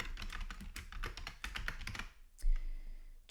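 Fast, close typing on a computer keyboard while entering a field name in a database table, a dense run of clicky keystrokes that ends with a heavier thump, with no voice over it.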